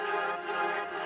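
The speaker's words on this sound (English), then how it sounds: "there's a lot of different pads going on here" Layered synth pads from a house track blend into a dense, sustained wash of tones, steady and moderately loud with no voices.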